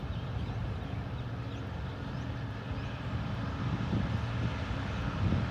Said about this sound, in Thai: มาแล้วนะครับขบวน ด่วน พิเศษ ทักษิณารัตที่ 32 นะครับ วันนี้ทำขบวนโดยฮิตาชินะครับ